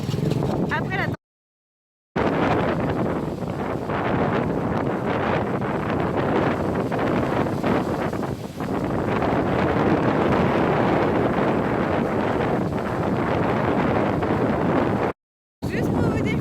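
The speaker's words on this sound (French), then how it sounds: "il y a encore un tout petit peu de vent comme vous pouvez voir sur la plage avec les vagues derrière moi" Strong gusty wind from Typhoon Damrey roars across a beach in Nha Trang with waves behind, buffeting the microphone in a loud continuous rush that cuts out briefly twice, with a person talking partly beneath it.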